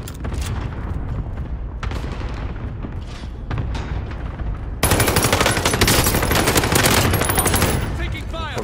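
Video game gunfire: bursts of shots under scattered talk, then a loud, dense stretch of rapid machine-gun fire with booms in the second half.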